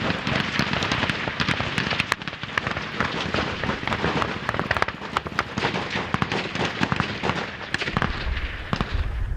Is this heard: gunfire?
yes